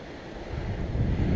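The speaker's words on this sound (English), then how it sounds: "it's a windy day today, and the wind is right behind us." Gusty wind roars across an open microphone, a steady low rumble that swells slightly louder toward the end, with no voices.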